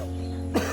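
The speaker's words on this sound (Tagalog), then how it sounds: "Tanawa, lain nag-ubo." A single short, deep cough from one person bursts out near the end, fairly clear against a quiet background with a low steady hum.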